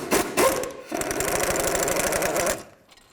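A power tool with an 18mm socket rattles and buzzes in two bursts, the second longer and steady, removing wheel bearing bolts from the steering knuckle of a 2002-2009 GMC Envoy, followed by quiet.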